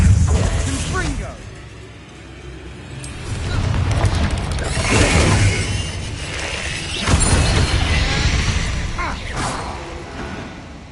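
Confringo blasting spell explosions in the Hogwarts Legacy video game: heavy rumbling booms swelling twice with crackling mechanical debris and whooshes, loud and close, mixed with game effects.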